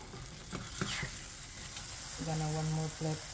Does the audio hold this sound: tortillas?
yes